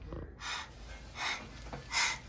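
A voice imitates tired panting with three short, breathy huffs spaced apart, fairly quiet and close.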